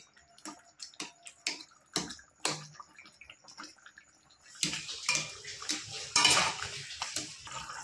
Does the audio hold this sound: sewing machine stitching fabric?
no